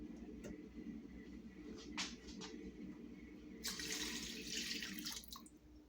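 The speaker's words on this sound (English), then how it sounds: "I've already pre-measured my beef broth, and I'm gonna go ahead and pour all of it in" Beef broth is poured into a cooking pot, giving a splashing, running liquid sound that comes in brief spurts and then a longer steady pour near the end, with no talking.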